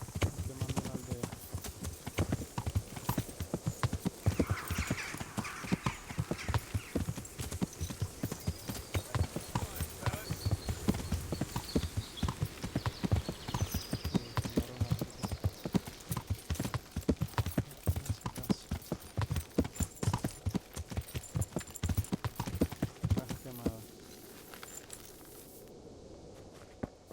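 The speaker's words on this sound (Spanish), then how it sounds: "Un caballo." Horse hooves clip-clop in a steady walking rhythm in the medieval video game Kingdom Come: Deliverance, close and continuous for about twenty-four seconds with game ambience beneath, then fading out; no clear neigh stands out.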